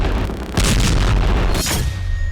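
A deep, heavy boom erupts and rolls on as a sustained roar of rumbling blast noise, loud and close, with no voices.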